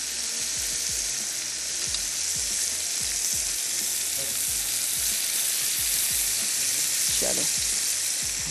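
Chicken pieces sizzle steadily on a grill pan for an Italian-style grilled chicken, a dense continuous frying hiss with scattered crackles and occasional scraping as pieces are placed, close and fairly loud with no talk.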